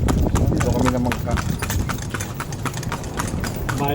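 Horse hooves clip-clop in a quick, steady rhythm, close and loud, during a horse ride in Vietnam, with people talking over the hoofbeats.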